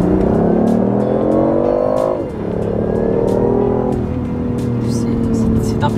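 A BMW i8 supercar drives and accelerates, its engine note rising in pitch through gear changes, loud and close, with a brief lift around the middle before it pulls again.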